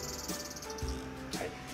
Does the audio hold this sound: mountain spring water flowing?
no